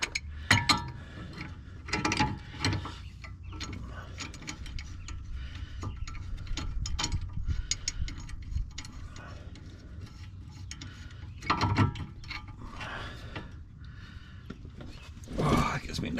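A car's tie rod adjuster being turned by hand on a driveway during a DIY toe alignment, giving faint irregular ticking and ratcheting clicks in short bursts, with someone talking between them.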